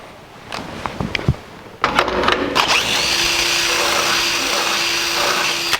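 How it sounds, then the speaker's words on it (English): A few clicks and taps, then a power drill whirs up and runs steadily at a high pitch for several seconds, drilling two holes near the gearbox of a 1964 C10 pickup, close and loud. "let's just drill these 2 holes right here."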